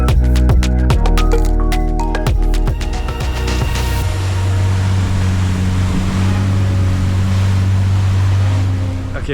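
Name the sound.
tour boat riding over waves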